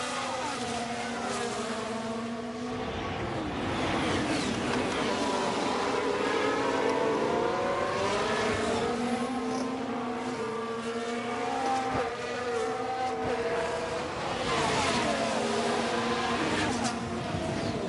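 Formula 1 race cars in F1 Manager 23 roaring around the track, sustained high-pitched engine whine rising and falling through gear changes as cars pass, with commentary voice underneath.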